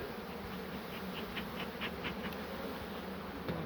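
Honey bees buzz at a hive during a spring inspection in Ardahan, a dense, steady drone that holds evenly throughout with no voices.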